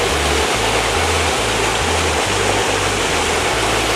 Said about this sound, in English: It's a nice little waterfall.